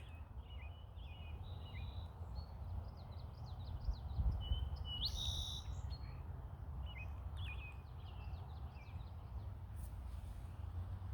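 Small birds chirp and trill repeatedly at a wetland pond, several short rapid calls scattered across the scene at moderate distance over a steady low outdoor rumble.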